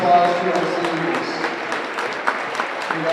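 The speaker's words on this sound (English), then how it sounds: "Let's give one more big round of applause to our seniors." Crowd applause in a high school gym for senior players at a basketball game between Osage and West Fork, steady clapping that runs the full length, with an announcer's voice and a few sharper claps over it.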